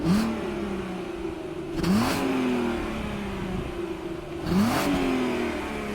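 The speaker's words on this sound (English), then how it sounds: "this is abysmal to think that this is a V6 sounding like this" An Audi TT V6 engine revs up and settles back twice, the exhaust note fairly quiet and subdued, with steady idle between the two rises.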